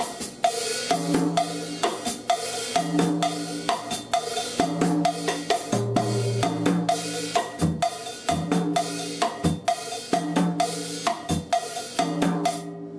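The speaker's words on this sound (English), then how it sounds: "smaller bell, the cha-cha bell, if you're playing cha-cha-cha, the pattern sounds like this" A drummer plays a cha-cha-cha pattern on the small cha-cha cowbell, loud quarter-note strikes with soft ghosted upbeats between them, over a steady groove of drums in a clinic setting, with no talk.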